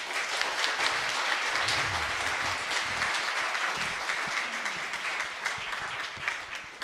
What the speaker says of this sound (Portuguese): vamos fazer isso com uma salva de palmas,